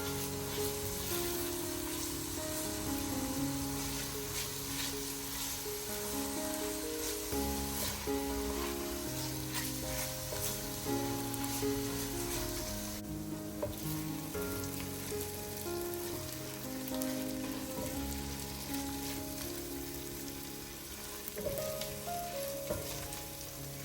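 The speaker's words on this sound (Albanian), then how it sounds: "I përzijem për pak minuta derisa perimet e kenë filluar të skuqen." Grated frozen carrot and potato fry in a pot with a steady, dense sizzle like light rain that continues for the whole stretch, close and even in level, under a layer of background music.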